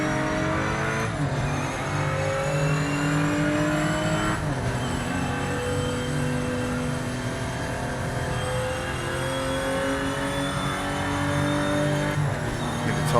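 A racing car engine in Project Motor Racing revs and climbs through gears while the rear end drifts, a steady loud whine with rising pitch sweeps and brief shifts, close and continuous.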